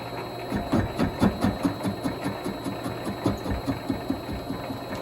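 Vevor MX 400 mini lathe facing off uncentered, wobbling stock with a high-speed steel tool: a steady, close motor hum with a rapid rhythmic knocking pulse running throughout.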